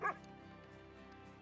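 A single short happy dog yip or bark from the video game The Red Lantern, heard at the start over steady in-game ambience and low background music.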